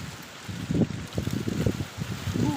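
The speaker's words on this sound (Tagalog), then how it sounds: "Malakas ang hangin." Strong wind gusts buffet and rumble against the microphone high up a coconut tree in the countryside, a steady blustery roar with rustling throughout.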